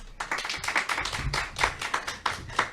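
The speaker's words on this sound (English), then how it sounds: "Let's applaud all of our amazing award winners tonight." Audience at the 2021 Whitney M. Young Jr. Gala claps for award winners, a sparse, uneven patter of individual hand claps from a modest crowd, rising and falling over a few seconds.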